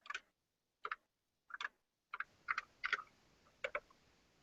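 A TRS-80 Model 2 floppy drive clicks and ticks while booting LS-DOS: a few isolated, faint mechanical clicks, then a quicker irregular run of clicks over a soft background hiss.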